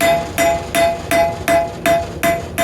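A hammer strikes heated rebar on an anvil to draw it out during knife forging, eight evenly spaced, sharp ringing blows in a steady rhythm, close and loud.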